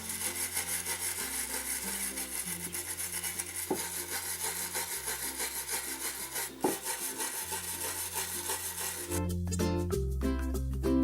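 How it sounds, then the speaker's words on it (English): A small brass brush scrubs across a CNC-carved wooden sign in quick, rhythmic back-and-forth strokes, a close, dry rasping that keeps up steadily with a few brief knocks and ends in a rougher burst. "Now I'm gonna try and use this little brass brush here without using sandpaper."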